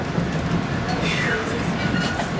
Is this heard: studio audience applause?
no